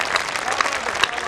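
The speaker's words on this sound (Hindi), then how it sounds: "सब तालियों का महोत्सव चला" An audience claps at a Hindi comedy poetry gathering in Chhattisgarh, India, a brief burst of dense, loud applause from a crowd, steady throughout with a few sharper claps standing out.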